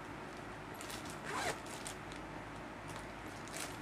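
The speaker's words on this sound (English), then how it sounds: "That's the zipper on the side right here." A zipper on the side pocket of a newly unpacked bag is pulled open in one quick zip, faint and close, over a low steady room hiss.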